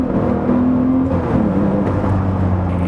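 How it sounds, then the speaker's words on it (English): A Lamborghini Murciélago V12 engine revs and accelerates close by, with blips on downshifts, its pitch shifting between gears in a continuous throaty roar. "it gives perfect blips on downshifts with the best noise"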